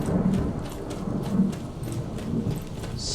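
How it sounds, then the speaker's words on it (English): Steady rain with low rumbling thunder in a Skyrim game thunderstorm under the Vivid Weathers mod, a continuous wash of rainfall with soft rolling booms throughout. "Storms happen in the vanilla game"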